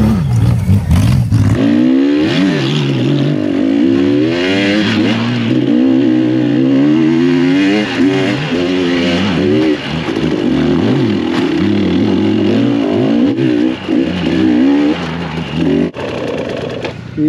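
A Honda Goldwing motorcycle revving at full throttle while ridden off-road up a slope: a loud, close engine note that rises and falls repeatedly as the throttle is worked, sustained throughout with no talk over it.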